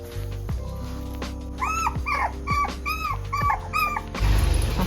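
Four young puppies yelp and whimper in the morning, their high, wavering cries repeating in quick, close bursts over a low background hum, ending in a rustling scuffle.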